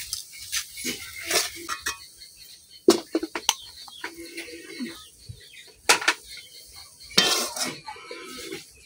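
Metal pot of cooked taro greens lifted off a village stove, with scattered clinks and scrapes of cookware and utensils, short sharp knocks and rattles separated by quiet gaps, close by and moderately loud.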